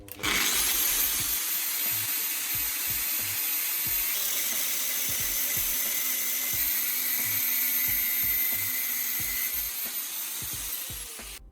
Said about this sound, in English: cut off the nail head with pliers or a grinder